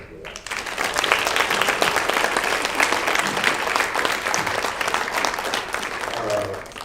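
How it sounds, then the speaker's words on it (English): Sustained applause from a high school sports banquet audience honoring an athlete, steady and full for several seconds before tapering off near the end. "she definitely deserves a round of applause for that"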